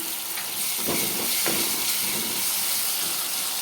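Garlic paste and ginger paste hit hot oil in a pan while beef is being cooked, giving a loud, continuous hissing sizzle with a couple of brief stirring scrapes, close by and without speech.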